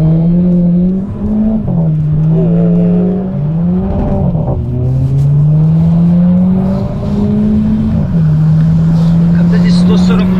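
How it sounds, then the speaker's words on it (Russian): A Skoda Octavia 1.8 Turbo's split dual exhaust with flaps gives a deep, steady drone with a throaty tone that shifts pitch as the engine revs rise and settle, loud and close throughout. "Конфигурацию выхлопа мы выбрали раздвоение с заслонками"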